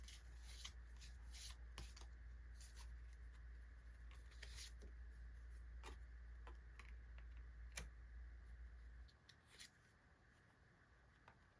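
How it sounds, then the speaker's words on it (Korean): Tarot cards are shuffled and drawn, giving repeated soft riffling clicks and flicks at close range over a low steady hum that drops away near the end, with no talking. "조언 카드 뽑아봤는데요"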